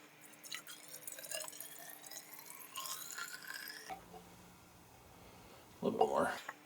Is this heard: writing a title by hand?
no